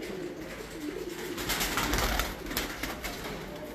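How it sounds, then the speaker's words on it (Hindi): Red gold Lakha pigeons coo softly and repeatedly at close range, their low throaty calls overlapping against a steady background of ambient noise. "ये सोने की तरह के लाखे कबूतर हैं"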